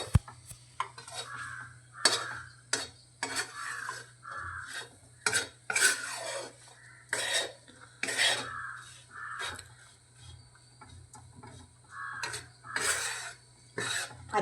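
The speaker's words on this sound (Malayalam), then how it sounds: "നമുക്കിത് ഇളക്കാം." Kerala-style pork fry being stirred in a pan, with repeated close scraping and rasping strokes of a utensil against the metal in an irregular rhythm, each stroke ending in a short clink.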